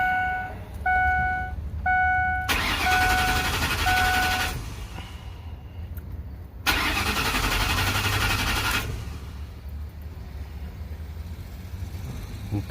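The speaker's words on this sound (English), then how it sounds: "let's crank her up" A 2005 Ford Econoline E350 engine cranks in two bursts after its door chime beeps steadily, the first short, the second longer and louder, then a lower rumble continues afterward.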